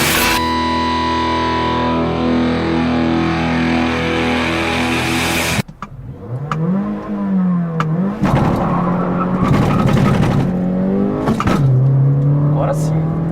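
A Volkswagen Saveiro Cross double-cab pickup with a naturally aspirated engine accelerates during a timed acceleration test, its engine note rising loud and steady with a gear change partway through, while people talk over it.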